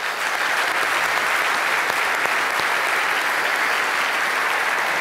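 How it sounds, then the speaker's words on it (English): A school awards evening audience gives a big round of applause, a loud, dense, sustained roar of clapping that holds steady throughout with no talk over it. "I think you deserve another big round of applause from everyone"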